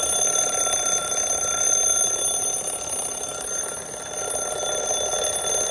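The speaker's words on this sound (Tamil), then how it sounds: "பாருங்கள் அலாரமில் எந்த மாதிரி சவுண்டு வருதுன்னு." A new digital alarm clock ringing indoors, a continuous high electronic tone held steadily at close range and fairly loud, with no voices over it.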